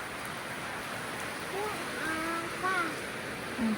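Steady hiss of the year's first rain in Thailand fills the scene, with a few faint birdlike chirps and voices in the background.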